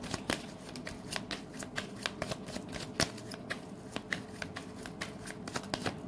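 Tarot cards shuffled by hand in a steady run of crisp riffling flicks and soft slaps, close and fairly loud, with no talking over it.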